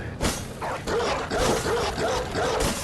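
Dogs barking and yipping in the Bloodborne video game, a busy run of repeated barks and whines under dense game noise throughout.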